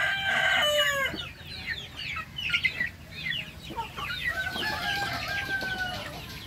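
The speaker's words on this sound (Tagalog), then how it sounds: "Yung mga manok po, mga kalingap." Chickens cluck and squawk close by in a busy, overlapping chorus, with a rooster-like call near the start and scattered bird chatter throughout.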